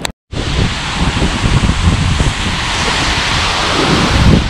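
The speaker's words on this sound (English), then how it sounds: "I got a crazy storm rolling in" Strong wind from an approaching storm roars steadily, buffeting the microphone with broad, rushing noise that swells and gusts after a brief silent start.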